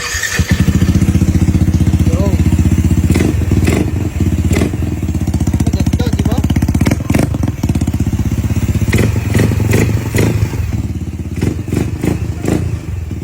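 Motorcycle engine with a cheap aftermarket quick throttle fitted, revved in repeated quick blips over a steady loud idle, with a few thumps and clatters between throttle bursts.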